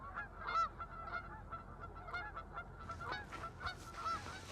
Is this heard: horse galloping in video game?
no